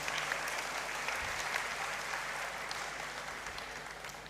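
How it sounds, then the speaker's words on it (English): Applause from the audience at a university congregation ceremony in a great hall fills the space as a dense, steady wash of many hands clapping, moderately distant and slowly easing off, with no talk. "A round of applause."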